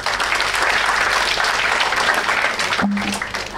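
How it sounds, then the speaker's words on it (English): Audience applause for a panel speaker at a tech talent panel discussion, steady and dense clapping filling the room for several seconds before fading slightly at the end. "let's give him a round of applause"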